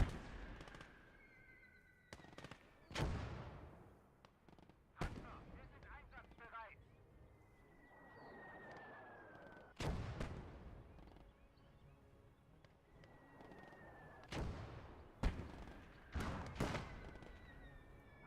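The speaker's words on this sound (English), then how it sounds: "that's the enemy mortar doing" Enemy mortar fire in a video game, heard as a series of sharp, loud blasts spaced a few seconds apart, some with descending whistles before impact, over a rumbling battlefield bed with voices talking throughout.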